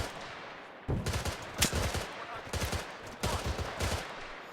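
Grenade blasts and gunfire in the Arma 3 military shooter, a series of sharp, loud bursts arriving in two clusters, each with rapid crackling reports and low booming tails over a quiet background.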